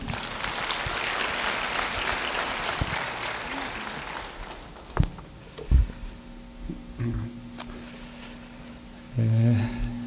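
A conference audience applauds to welcome the Chungnam education superintendent at a teachers' summer workshop in Cheonan; moderate clapping fills the first four seconds, then fades into scattered thumps and room noise.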